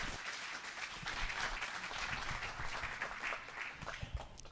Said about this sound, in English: A little extra applause for Tim Hoven.